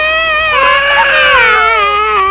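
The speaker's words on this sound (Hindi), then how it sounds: "उसे बच्चों के रोने की आवाज आती है।" Cartoon children cry near a cave in a Hindi animated story. The wails are loud, close and sustained, with wavering pitch, and run throughout without pause.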